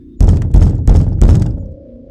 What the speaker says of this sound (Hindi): दरवाजे को पीटने की आवाज आने लगती है